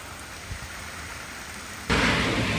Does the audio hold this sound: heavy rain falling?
yes